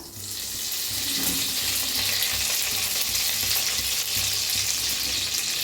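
Chopped garlic and curry leaves hit hot oil in a kadhai for tempering, setting off a strong, continuous hiss and crackle close by that holds steady throughout with no talking.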